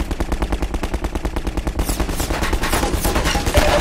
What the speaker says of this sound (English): Are these guys gonna keep shooting at nothing?